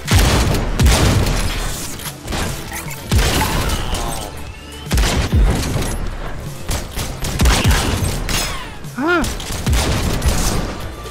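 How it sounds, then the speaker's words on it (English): Shotguns fire in a video game involving robots in a steady barrage of loud blasts and booms, with a voice speaking over the gunfire. "Reach over your shoulders and grab your new shotguns."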